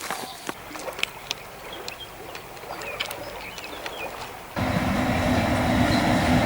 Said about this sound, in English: That's the regional train going to Vienna.